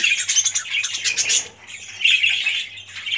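Several budgerigars in a cage squawk and chatter continuously, with shrill overlapping calls and brief wing flutters, close and fairly loud with no talk over them.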